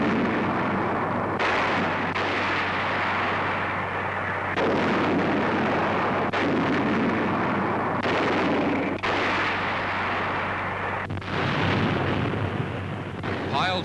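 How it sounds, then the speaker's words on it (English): US artillery barrage fired at near point-blank range from a small island west of Kwajalein, Marshall Islands, 1944: repeated heavy booming blasts every couple of seconds over a constant low newsreel hum. "United States artillery pounds the objective at almost point-blank range."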